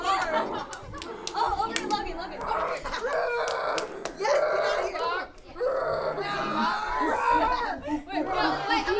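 A child imitates a chicken with squawking, clucking vocal sounds in a lively room while other voices chatter and laugh around it.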